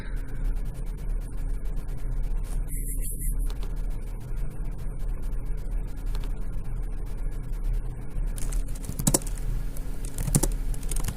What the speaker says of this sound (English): Keyboard typing sounds are in stereo